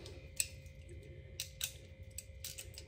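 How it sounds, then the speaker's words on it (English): Faint, quick bursts of ratchet clicks as a wrench turns bolts on a service trailer's brake, coming in a few short runs over a low background hum. "Ratchet."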